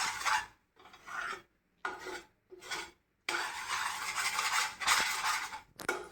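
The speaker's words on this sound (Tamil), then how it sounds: "ஒரு நிமிஷம் தான் கிண்டிட்டு கட்டிடுறேன்" Thick burfi mixture scraped and stirred in a pan, a rough rasping of the spoon against the metal in repeated short bursts, then one longer continuous stretch, close and alone with no talk.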